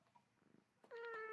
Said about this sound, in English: Can you guys hear the cat purring?